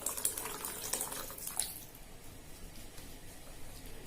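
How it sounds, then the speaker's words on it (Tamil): Water poured into a pan of Nagercoil-style broad bean and dried fish curry with tamarind water, a splashing pour that is strongest in the first second and a half and then fades to a quiet trickle. "குழம்புக்கு தேவையான அளவு தண்ணி விடுறேன்"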